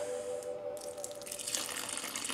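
Tap water pours and splashes briefly from an old plastic milk jug, a short gurgling stream that grows brighter toward the end.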